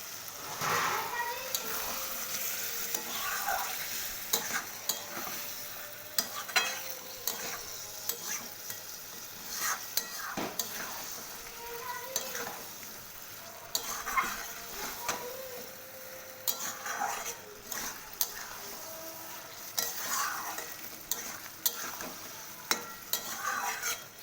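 Paneer and vegetables stir-frying in a pan, a steady sizzle broken by repeated scraping and clinking of a spatula against the pan.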